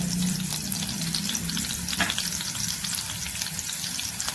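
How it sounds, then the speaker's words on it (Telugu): Cumin seeds fry in hot oil for a Telugu-style amaranth leaf stir-fry, giving a steady, dense, close sizzle with light stirring scrapes throughout. "ఇది బాగా ఫ్రై చేయాలి, బాగా ఫ్రై చేయాలండి. ఇప్పుడు కొంచెం జీలకర్ర వేస్తున్నాను"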